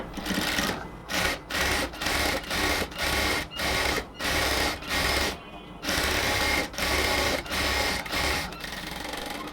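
A sewing machine stitches lace onto the hem of a cotton kameez, running in short, even bursts with brief pauses between them, loud and close with no voices.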